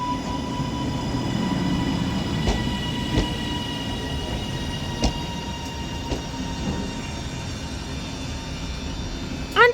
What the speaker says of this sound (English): And as this double Northern 331 now arrives into Manchester Oxford Road